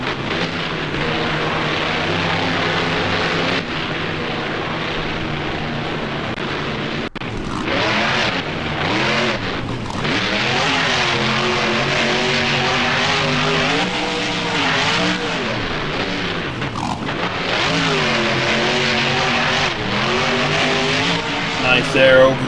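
In the BeamNG driving game, a monster truck roars across a boneyard freestyle course over a tabletop jump, its loud engine droning and surging as it catches air, bounces and pulls a wheelie, with commentary talk running over it.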